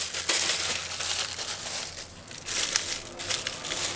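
Plastic bags crinkling and rustling in a kitchen while curried pig's trotters with butter beans and dried pimento berries are prepared, a steady close crackle of handling running through the whole stretch with no talk.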